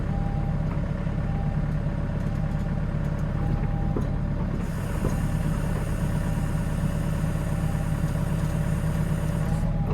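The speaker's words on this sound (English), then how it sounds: "you can hear the engine load up more as well, can't you?" A Scania truck engine with a hydraulic fault idles in a steady low rumble, its tone shifting and loading up partway through, close and continuous with no talking.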